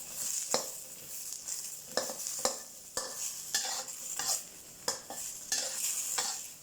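Shallots, chilies and garlic dry-roasting in a pan for Thai-Lao chopped fermented fish relish, with a utensil scraping and stirring in repeated sharp strokes over a steady sizzle, close and alone.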